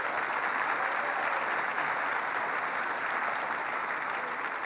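A crowd at a Governor Cuomo announcement event in Buffalo applauds a local official, a thick continuous roar of clapping that holds steady and fairly loud throughout, with no speech on top.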